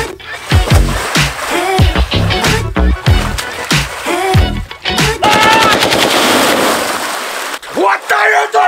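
Bursts of AK-47 machine gun fire ring out loud and close in rapid rattling volleys, several short strings followed by a longer continuous burst, with voices in the mix.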